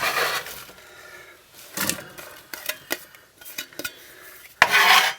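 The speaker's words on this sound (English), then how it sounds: "Right, let's get this onion in." Chopped onion goes into a pan for a ham penne bake and is stirred, giving scattered clinks and scrapes of a utensil against the pan with short bursts of faint sizzling.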